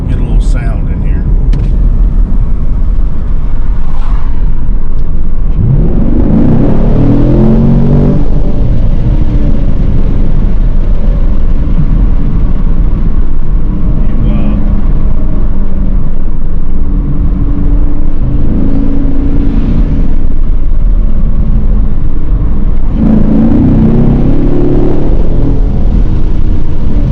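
A Chevrolet Camaro 2SS heard from the cabin while driving, engine rumbling steadily with several rising revs and shifts, loud and continuous throughout.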